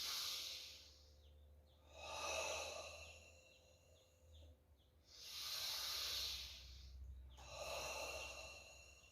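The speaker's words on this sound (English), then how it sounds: "Breathe in." Slow, deliberate inhales and exhales during a calm breathing exercise, three or four long airy breaths rising and falling in a quiet room, close and soft.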